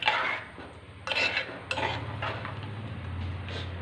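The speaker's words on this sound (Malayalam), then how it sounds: "ഇതിന് നമുക്ക് ഇതൊന്ന് ഇളക്കി ഇളക്കി എടുക്കാം" Pachadi stirred in a pan for an Onam recipe: a spoon scrapes and clinks against the metal in a few distinct strokes, close and fairly quiet over a low steady hum, with no talking.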